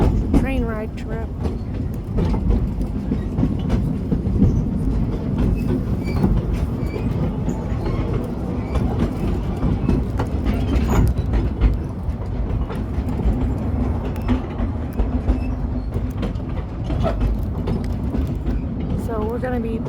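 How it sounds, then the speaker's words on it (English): A narrow gauge train on the Cripple Creek & Victor Railroad rolls steadily along the rails, rattling and clacking with occasional faint wheel squeal, a continuous loud rumble throughout with voices talking in the background. "So, getting ready to end the train ride trip."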